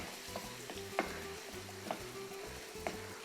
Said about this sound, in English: Now I'm going to really mix it here.